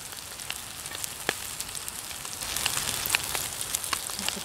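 Chopped beef tripe stir-frying in oil in a pan at a riverside winter campsite, a soft continuous sizzle scattered with sharp pops and crackles, close and steady.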